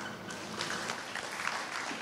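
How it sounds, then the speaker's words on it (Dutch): A short burst of applause from a crowd, steady clapping filling the room at moderate volume. "warm applaus"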